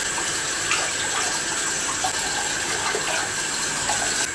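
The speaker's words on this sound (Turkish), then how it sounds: "3 su bardağı da su ekleyeceğim." Water is poured into a pot of sugar for syrup, a steady continuous gush and trickle running throughout without a break, close and moderately loud, with no talking.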